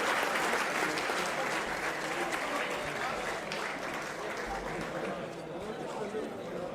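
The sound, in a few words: audience applause honoring soldiers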